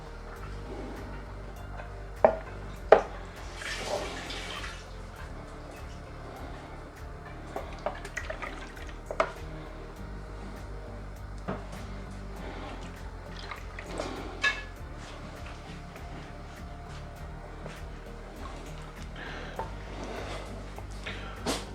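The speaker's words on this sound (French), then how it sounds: "je vais récupérer un peu de bouillon de là" Broth is ladled from a pot of beef bourguignon, with intermittent liquid drips, pours and clinks of a ladle against the pot over a low steady hum.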